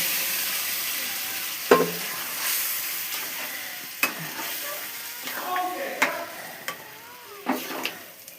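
Mung dal fries in a pan with fish head, onion, ginger, garlic, bay leaf and chilli, a moderate sizzle broken by repeated clinks and scrapes of stirring.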